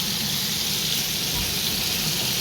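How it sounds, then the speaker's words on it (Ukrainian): Loud, continuous sizzling and crackling of small fish frying in hot oil in a pan, close up and steady throughout. "Смажу рибку."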